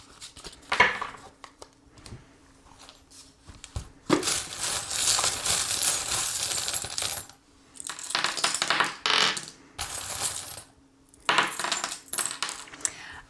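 Small metal divination charms are shaken and cast, clinking and jingling in close, bright bursts of rattling, with short quiet gaps between several rounds of shaking.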